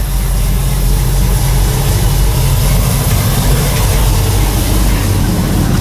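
A 427 big block Chevy V8 in a firetruck COE hauler idles steadily around 850 to 900 RPM, a loud, continuous low rumble with an exhaust leak, close by and with no talk.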